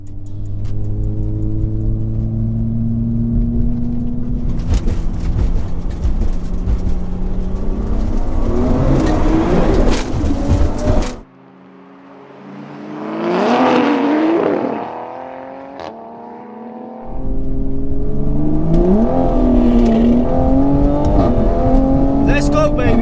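A Mk5 and a Mk4 car in a roll race, engines revving hard and loud up close, dropping off briefly mid-run before roaring back to full throttle.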